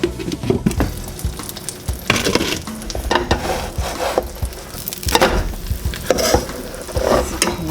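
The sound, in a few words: breakfast tortillas with turkey pastrami frying in pan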